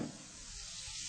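Garlic tossed into a hot paella pan gives a brief, even hiss of frying, a soft continuous sizzle with no other sounds.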